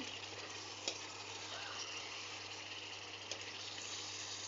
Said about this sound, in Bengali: এখন আমরা মাংসটাকে ভালো মতো কষিয়ে নেব